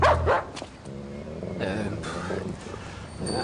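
A dog, a police dog at a café, gives several sharp barks and yips in quick succession, followed by whimpering, near and fairly loud amid background chatter.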